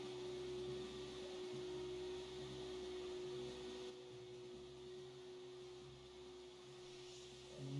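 A steady vacuum-like whirring drone with a constant electric hum runs throughout a Roblox game, fairly quiet and unchanging.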